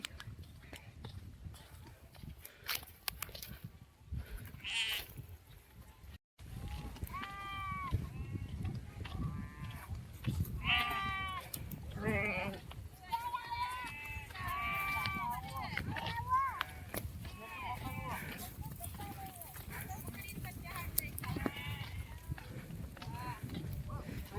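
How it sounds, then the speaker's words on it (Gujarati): Sheep bleat repeatedly at close range, rising wavering calls over a busy outdoor background with steady chatter and movement, voices talking throughout. "વંશિકા ઘેટા રમાડવા ગઈ"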